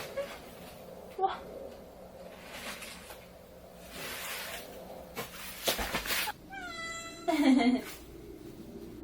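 A cat meows a few times, one long drawn-out cry followed by a lower whining meow, amid rustling and handling noises with some faint talking.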